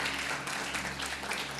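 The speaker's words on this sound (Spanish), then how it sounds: "Dan una ofrenda de palmas a la Señora" A church congregation applauds, producing a steady, dense wash of clapping at moderate level with a low background hum beneath it.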